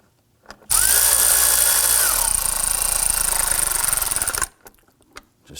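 A power tool runs in one loud, continuous burst of about four seconds while snugging down the crankshaft position sensor bolts on a 2005-2009 Subaru Legacy 2.5L H4, starting and stopping abruptly, with near-silence on either side.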